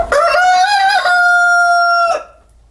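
One rooster lets out a full, loud cock-a-doodle-doo nearby, the strained call sustained for about two seconds before breaking off into quiet.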